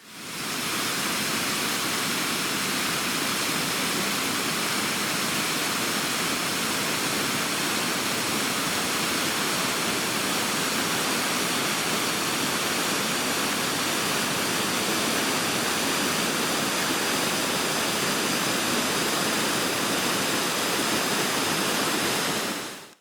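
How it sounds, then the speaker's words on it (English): A waterfall roars in a steady, dense rush of falling water, loud and unchanging throughout, with no voices. "Let's finish off with a little waterfall"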